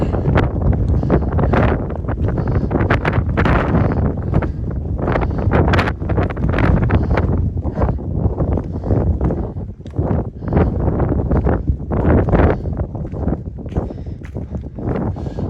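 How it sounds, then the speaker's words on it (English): Powerful gusts batter the microphone near the summit of Mount Moosilauke on the Appalachian Trail, a loud, continuous, uneven roar surging and dropping in rapid waves throughout. "The wind is actually blowing us around"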